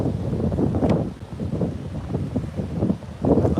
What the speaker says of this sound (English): I know the wind is quite loud out here